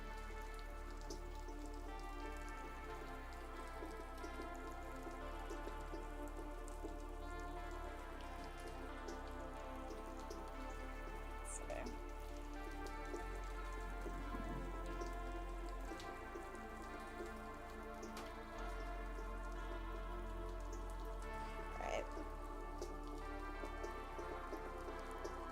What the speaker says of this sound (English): The rain sounds beautiful.